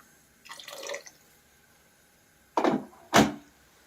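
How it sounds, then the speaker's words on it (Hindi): Hot water, one cup's worth, poured into a pan of cooking radish leaf curry: a soft splash near the start, then two louder close pours later, with quiet pauses between. "तो यहाँ पे मैं 1 कप पानी डाली हूँ"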